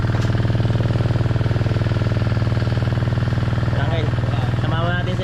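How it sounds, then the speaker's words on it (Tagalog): A small engine driving a water pump on a farm chugs steadily at close range with a fast, even putter, while voices talk over it toward the end. "inopen na niya yung makina. Magpapump na yan ng tubig"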